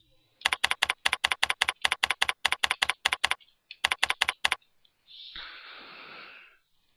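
Rapid bursts of typing on a computer keyboard, close and crisp, with clusters of keystrokes separated by short pauses, ending with a soft breathy exhale.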